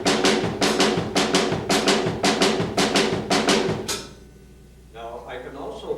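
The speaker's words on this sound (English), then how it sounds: "that triplet is right and left with the bass drum on the third" Snare drum triplets alternating right and left hands, with the bass drum landing on the third note, repeat in a steady, close, loud rhythm for about four seconds before stopping, followed by a faint quieter sound.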